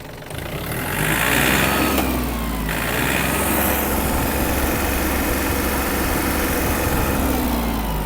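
A Yanmar RS-24 Japanese mini tractor's small engine rumbles and revs up, then holds a loud, steady, throaty roar close by with no talking.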